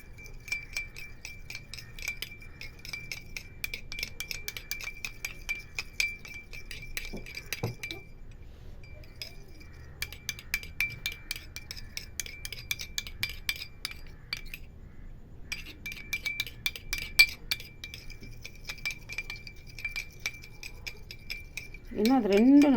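Spoon clinking against a bowl while stirring aloe vera gel and rose water together, a steady run of light metallic taps and scrapes with brief pauses, close and fairly quiet.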